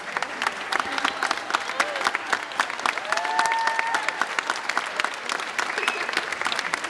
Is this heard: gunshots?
no